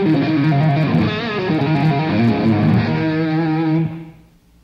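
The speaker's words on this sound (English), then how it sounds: "Then I'm running into a distortion box, which is giving me an extra bit of gain." Electric guitar played through a wah pedal and a distortion box, a loud sustained gritty chord with sweeping tonal shifts, fading out in the last second.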